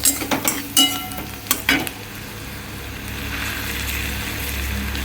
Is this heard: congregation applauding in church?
no